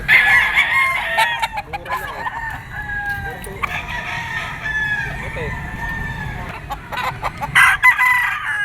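A super brown red bull stag rooster at a gamefowl market crows loudly and close several times, its harmonic calls rising and falling over other birds clucking and crowing in the background.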